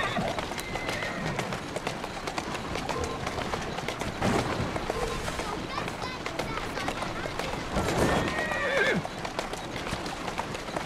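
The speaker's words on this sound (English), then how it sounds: "Who's a good horse?" Horse neighs and hooves trot on a street in Assassin's Creed Syndicate video game, with a busy game backdrop and occasional spoken lines mixed in.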